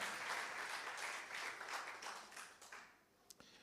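Faint applause from a church congregation during a sermon, a soft continuous patter of clapping that thins out toward the end.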